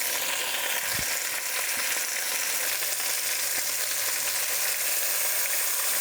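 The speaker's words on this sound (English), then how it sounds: "So all I'm looking to do here is brown both sides." Chicken browning in a pan before going into dumpling soup, a continuous close sizzle with a faint tap early on and a low steady hum underneath.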